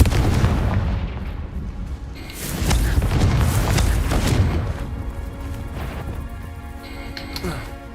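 Confringo fire spell explosions in Hogwarts Legacy: several loud booming blasts with crackling bursts over a dense game soundscape, the impacts recurring through the stretch.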